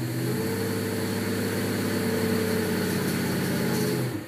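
An EFI 455 big block Oldsmobile engine runs hard on a dyno, a loud, sustained roar held at steady revs with no voices.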